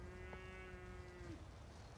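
A Maraîchine cow on a wetland farm gives a single long, low moo lasting about a second, fairly distant over quiet outdoor background noise.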